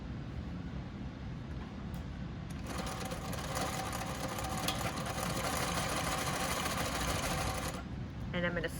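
A sewing machine stitching a shirt cuff starts with a whir and runs in a steady rapid mechanical hum for several seconds, then stops with a few brief clicks.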